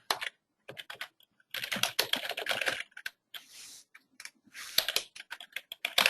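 Rapid clicking keystrokes on a computer keyboard come in irregular bursts with short pauses, close and clear, as an email subject and message are typed.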